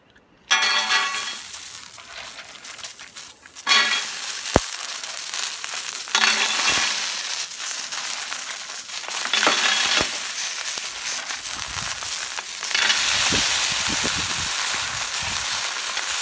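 Mussels sizzling and crackling on an oiled plancha griddle, a steady bright frying hiss that swells in bursts with occasional clinks of shells, close and fairly loud with no talk.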